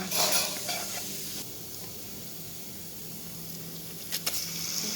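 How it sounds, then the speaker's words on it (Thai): Garlic and minced pork stir-frying in a pan, a steady close sizzle with a few scrapes of the spatula at the start and near the end. "คั่วกระเทียมมันให้หอม"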